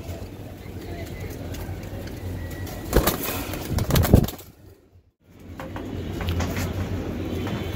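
Paired roller pigeons of a line-bred loft coo and burble close by, with a louder flurry of movement around the middle before a brief dropout, then steady cooing resumes.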